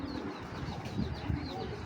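A racer pigeon being handled, with soft, close coos and rustling, a faint flutter of wings running steadily throughout.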